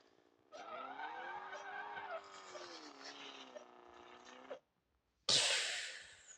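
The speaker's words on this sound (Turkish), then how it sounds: "Ben böyle drift atacağım arkadaşlar bakın" A car drifts with a long, loud tyre skid and a revving engine in the Rally Fury racing game. A sharp burst of skidding noise follows a brief pause.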